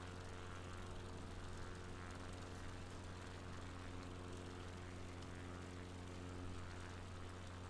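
A bush plane's propeller engine drones steadily in flight on autopilot over Patagonia, a dense, continuous hum with strong low tones, loud and unbroken throughout with no voices.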